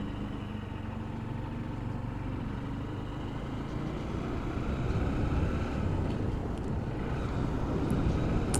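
Small motorcycle engine droning while riding, heard through a Drift Ghost XL action camera, mixed with steady wind buffeting. The engine hum rises and grows louder partway through as the rider opens the throttle.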